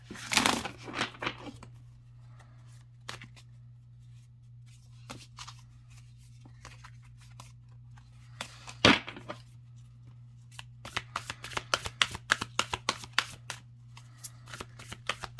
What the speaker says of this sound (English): I can just shuffle cards all day.